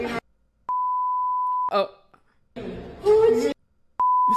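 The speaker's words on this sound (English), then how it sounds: "We were a little slow with the beeps here." Two steady censor bleep tones sound, a long one lasting about a second and a shorter one at the end, with a man's speech heard between them.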